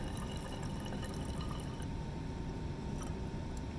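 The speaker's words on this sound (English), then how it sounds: "So we're just draining." Liquid draining steadily during a lab purification of banana oil (isoamyl acetate), a continuous close watery rush and trickle with no voices.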